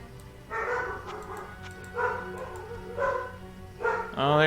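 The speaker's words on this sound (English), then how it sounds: "Oh, there go the dogs." Dogs bark in a video game inn scene, four distinct bursts of barking at moderate distance, spaced about a second apart, over a steady ambient hum, ending with a rising tonal sweep.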